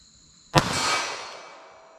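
A single .380 ACP pistol shot with Remington HTP ammunition cracks sharply outdoors at a range, followed by a long echoing decay.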